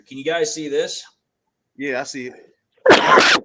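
Two short bursts of talk from different voices, then a sharp, loud sneeze bursts out at the end.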